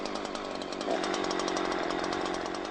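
A Husqvarna chainsaw runs steadily at high revs, its loud, close engine drone holding without a break and rising slightly partway through, with no voices.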